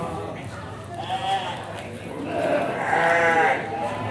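Garut sheep bleat at a sheep market, with several wavering bleats overlapping, some close and loud, against a busy background of market noise and people talking.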